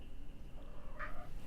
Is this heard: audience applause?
no